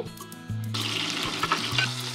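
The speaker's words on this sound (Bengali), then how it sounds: "আগে চিংড়ি মাছটা ভেজে নেব। অলরেডি তেলটা গরম হয়ে গেছে।" Shrimp drop into hot oil and burst into a sudden, close, crackling sizzle that keeps bubbling over a low tonal background hum.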